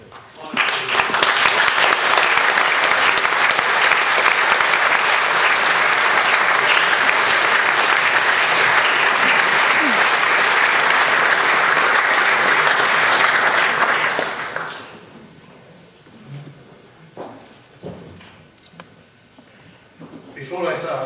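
Sustained applause from a dinner audience, loud and dense for about fourteen seconds before tapering off into scattered claps, murmurs and light room noise.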